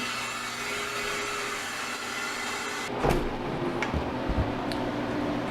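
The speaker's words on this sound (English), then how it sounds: "So next, open the drain valve." After its drain valve is opened, a home freeze dryer holding rice cooked with chicken broth gives off a steady, loud rushing hiss of air, broken by a sharp click and a few soft clunks midway.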